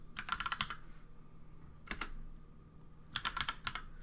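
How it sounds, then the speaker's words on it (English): Computer keyboard typing in a quiet room, a quick burst of keystrokes, a short pause, a single tap, then another rapid run of clicks close to the microphone. "I'm going to type Proxychains"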